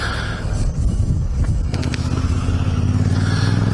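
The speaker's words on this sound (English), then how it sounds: "This is Andrew on his Yamaha T7." A Yamaha T7 adventure motorcycle rides along a road in the Gawler Ranges, its engine a loud, close, rough droning rumble with a brief scrape or clatter midway, no talk.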